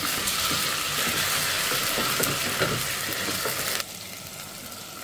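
Onion, ginger-garlic and tomato pastes fry and sizzle steadily in a pan while being stirred for a Bengali fish-head curry, a loud continuous hiss that thins out abruptly near the end.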